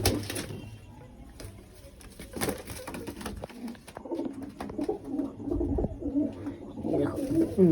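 A black Kaldam pigeon coos close by in repeated soft, throaty phrases over a busy indoor background with clatter and a faint voice.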